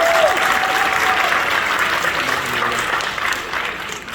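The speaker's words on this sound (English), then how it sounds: "you may applaud after each student's name" Audience at a school award ceremony applauding after a student's name is read, a full room of steady clapping that stays loud for several seconds before easing slightly.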